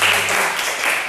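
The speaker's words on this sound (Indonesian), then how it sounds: "Tepuk tangan buat semua dulu." Schoolchildren in a classroom applaud together, a brief dense burst of clapping that stays steady and close for about a second.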